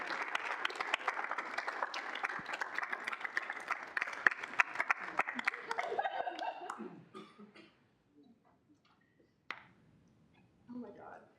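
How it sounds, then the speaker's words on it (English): Round of applause at a student senate meeting, dense clapping from a room of people with some laughter, fading after about seven seconds into quiet room noise with a few scattered sounds. "round of applause to everyone"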